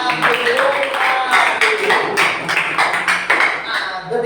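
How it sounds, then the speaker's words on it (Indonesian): A class of students claps hands together in a steady burst of applause, a fairly loud room sound with a voice speaking over it. "Tepuk tangan dulu."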